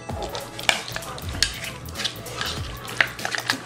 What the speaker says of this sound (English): So I'm gonna mix it up until we have a paste, and this is gonna go inside our spicy tuna rolls.